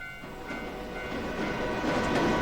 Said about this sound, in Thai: ได้ยินเสียงรถไฟฮะ